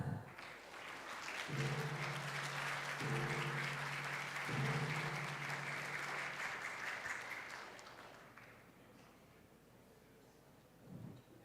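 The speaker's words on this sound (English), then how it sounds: "Let's give a round of applause to all of us." Audience applause at the official opening of an international conference, a steady wash of clapping lasting several seconds before fading, with faint chords in the background.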